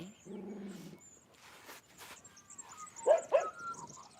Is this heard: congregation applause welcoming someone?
no